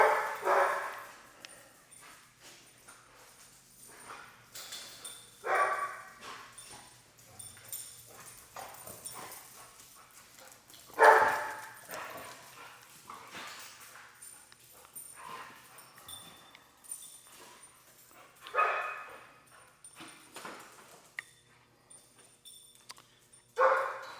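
A dog gives scattered single barks and yelps at intervals, with quiet stretches and faint shuffling in between.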